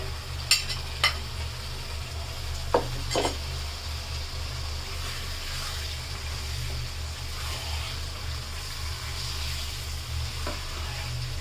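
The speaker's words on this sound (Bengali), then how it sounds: "এবার আমি এটা দিয়ে দেই ভাজা মাংসটা।" Fried chicken pieces go into cooked-down masala in a pot for achari chicken tehari, giving a constant low sizzle with a few sharp scrapes and clinks of stirring early on, no talking.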